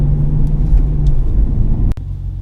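A manual stick-shift car pulls away from a stop sign with a loud, steady low engine rumble heard from inside the cabin, followed by a brief click and a slight drop in level near the end.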